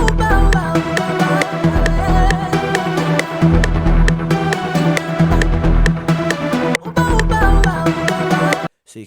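A staccato synth part from the Serum plugin, in a soca beat made in FL Studio, chops out short, punchy notes over a full, loud groove of drums and bass, broken by a brief drop near the end.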